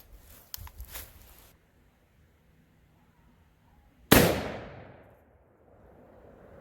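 A 12 gauge double barrel black powder shotgun loaded with 80 grains of FFG powder and a round ball fires once, a single loud sharp blast with a long decaying boom, after some faint earlier pops and near silence.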